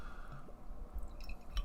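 S'morty Pastry Stout poured into a glass, giving soft, quiet dribbling and splashing liquid sounds with a few faint drips near the end.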